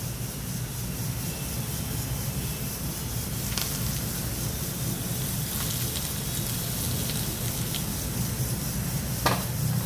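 Hot oil tempered with cumin and asafoetida sizzles steadily after being poured onto mashed potato, a continuous close crackling hiss with a few sharper pops and spoon clinks.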